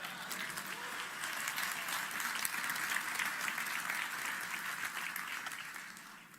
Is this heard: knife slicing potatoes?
no